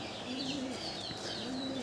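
Roller pigeon cooing softly in repeated low, rounded calls, two drawn-out coos separated by a short pause, heard fairly close over a steady background hiss.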